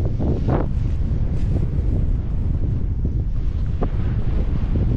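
Strong wind buffets a microphone at a mountain viewpoint in a Colombian village, a constant loud roar with gusting rumble and no speech.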